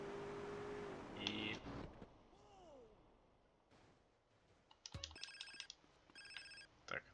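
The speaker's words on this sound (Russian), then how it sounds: "Так, ответь на звонок." A phone rings in GTA San Andreas Definitive Edition as a repeated electronic ringtone, heard in short trilling bursts among game sounds and faint breathy noises.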